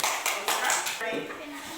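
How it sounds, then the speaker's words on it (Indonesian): A brief burst of applause, many hands clapping together in a classroom group discussion session, with voices talking over it before it fades. "Kita beri tepuk tangan."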